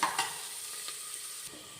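Sliced onions sauté in a pan for sardine masala, giving a brief close sizzle with a couple of sharp stirring scrapes near the start. No voices are heard.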